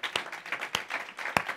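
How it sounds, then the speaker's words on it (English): Church congregation clapping together in a brief burst, a few sharp, loud claps standing out over a lighter patter of hands, with no talk. "one clap, we all clap"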